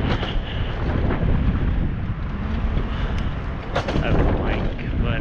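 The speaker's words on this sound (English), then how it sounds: "You can see the wind is still blowing up there on the pennants." Wind blows hard outdoors, keeping up a continuous loud rushing roar with gusty buffeting against the microphone and a few sharp crackles throughout.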